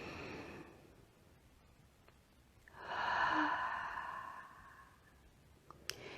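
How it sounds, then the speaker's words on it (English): Slow, deep breathing during a relaxation exercise: a soft exhale fades out, then a longer, fuller breath swells and trails off, with a faint click near the end. "you continue that deep, deep breathing right down into the belly"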